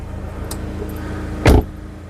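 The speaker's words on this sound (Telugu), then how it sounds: "డోర్ తీసేస్తుంటే సార్ ఆ సౌండ్" Door of a 2017 Ford Aspire Titanium petrol car opening, a single sharp close mechanical latch click over a low idle hum, with faint earlier ticks before it.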